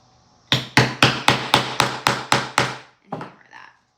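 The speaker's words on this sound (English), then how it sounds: "hammer that" A hammer strikes a metal grommet-setting tool on leather eight times in a steady rhythm, each blow a sharp, ringing knock, then a few lighter taps and handling sounds, close and loud, with no voices.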